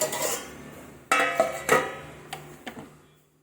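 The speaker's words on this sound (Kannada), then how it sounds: "ಇದನ್ನು ಗ್ಯಾಸನ್ನು ಆಫ್ ಮಾಡಿ ಇಟ್ಬಿಡೋಣ ಬಾಯಿ ಮುಚ್ಚಿ ಇಟ್ಬಿಡೋಣ" A pot of sooji halwa with ghee being covered after the gas is turned off, with several metallic clanks and taps of the lid against the pot, close and clear, fading to quiet.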